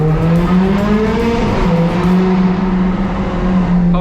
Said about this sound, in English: We're gonna rev it out through this tunnel.